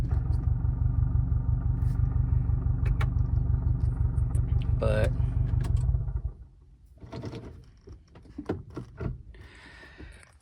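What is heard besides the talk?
Subaru STI engine and drivetrain noise as clutch is released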